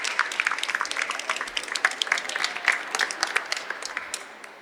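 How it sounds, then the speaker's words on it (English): Students are applauded by a crowd in the Capitol Rotunda, a lively round of scattered clapping that rings moderately near with a spacious echo, without voices, softening slightly toward the end. "Nice round of applause for our students."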